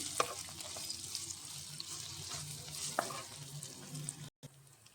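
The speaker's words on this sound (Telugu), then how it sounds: "అల్లం వెల్లుల్లి పేస్ట్ని అయితే యాడ్ చేసుకొని మంచిగా స్మెల్ అయితే పోయే వరకు ఆయిల్లో అయితే వేగనివ్వాలి" Ginger garlic paste frying in hot oil for a snake gourd curry, a soft steady sizzle with occasional stirring scrapes and clicks, fairly quiet and close, cut by a brief dropout near the end.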